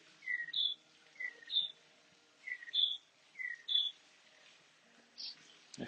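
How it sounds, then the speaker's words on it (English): Birds chirp outdoors in a quiet, humid morning setting, short paired high chirps repeating every second or so, faint and somewhat distant over a soft background hush. "I hear the birds chirping."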